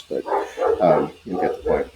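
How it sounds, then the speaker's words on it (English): A pet dog barks indoors in short, repeated bursts behind a person talking close to the microphone, the barks blending into the speech over a couple of seconds. "Sorry if you hear my dog barking in the background."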